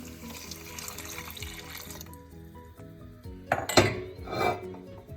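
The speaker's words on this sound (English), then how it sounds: "now I'm going to go ahead and add the vegetable broth" Vegetable broth poured into a cooking pot for a tomato and spinach penne pasta, a brief splashing gurgle with clinks of pot and utensil over a low kitchen hum.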